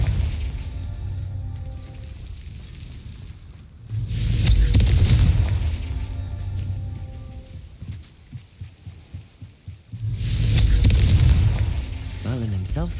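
Blasts of the Confringo fire spell in Hogwarts Legacy, two loud booming bursts several seconds apart over a steady rumbling game soundscape.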